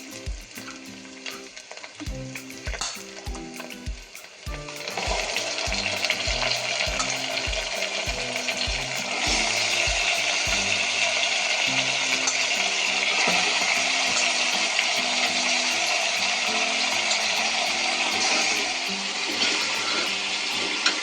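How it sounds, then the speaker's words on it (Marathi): Mutton rubbed with turmeric and salt hits hot oil with reddened onions for a rustic Maharashtrian dry mutton, starting with clinks and stirring, then a loud steady sizzle that swells and holds to the end. "चांगलं तेलात छान असं परतून घेऊ"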